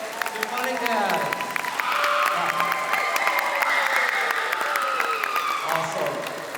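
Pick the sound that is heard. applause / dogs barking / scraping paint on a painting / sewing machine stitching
applause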